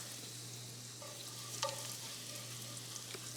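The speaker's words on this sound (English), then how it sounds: "now I'm just gonna add in the garlic, and we are gonna let this cook in for about 30 seconds with the onion and the butter" Garlic and onion frying in butter with a faint, steady sizzle and a few soft utensil taps, quiet and continuous under a low hum, no voices.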